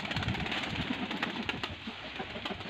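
Pigeons coo softly in a busy, noisy setting, their low murmuring calls blending with steady background hubbub.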